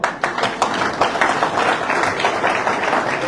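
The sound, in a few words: audience applause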